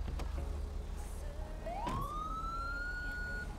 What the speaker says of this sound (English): they all have the same sirens